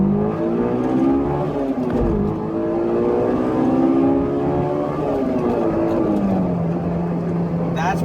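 A 2003 Honda S2000 engine revs hard to its 9,000 RPM redline, its pitch climbing and falling through several sustained pulls, loud and close, with no talking.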